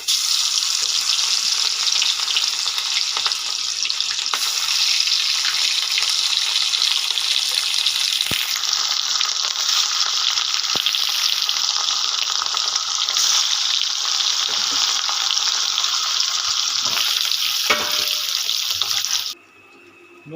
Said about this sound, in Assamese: মই মাছটো এতিয়া ফ্ৰাই কৰি ল'ম।